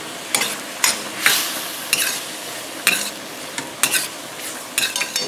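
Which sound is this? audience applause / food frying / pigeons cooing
food frying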